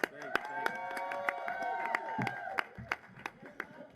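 An audience applauds at a City Hall celebration, with scattered claps and sharp hand strikes under a man's ongoing speech, loud and close to the microphone.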